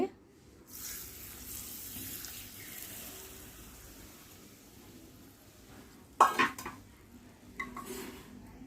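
A spoon stirs raw mango pickle through hot oil, scraping and clinking softly against the vessel at close range, mostly quiet and continuous, with a couple of louder knocks near the end.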